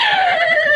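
Voice imitating horses neighing and whinnying, a loud, close, wavering high whinny held for under a second with no other sound around it.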